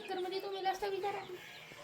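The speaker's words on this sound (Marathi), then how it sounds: "तिथं कोंबडी बीचमध्ये आहे" A hen clucks in short, tonal bursts close by, with people talking over it at an outdoor village spot.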